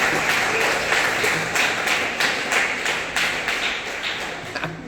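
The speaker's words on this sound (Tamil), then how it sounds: "கைத்தட்டா." A church congregation claps together in a dense, steady burst of applause that holds for several seconds, loud and close, with no talking over it.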